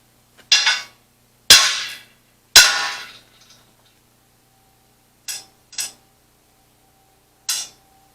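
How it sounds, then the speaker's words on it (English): A hammer strikes metal on a Carry All in a few sharp, ringing blows, three heavy hits close together followed by lighter taps after a pause, with quiet between them. "get a hammer."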